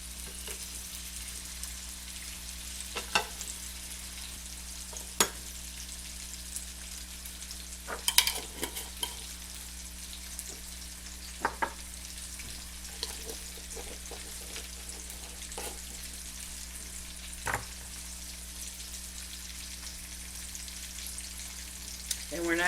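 Spinach and cream cheese stuffed chicken fries in hot oil, a faint, steady sizzle under a low hum, broken by a few scattered pops and crackles.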